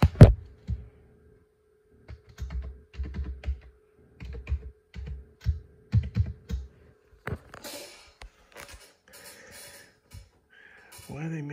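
Fingers type a password on the keyboard of a new Dell OptiPlex 7090 small-form-factor desktop. Quick bursts of soft, close key clicks come in short runs with pauses, then give way to a brief, brighter startup noise.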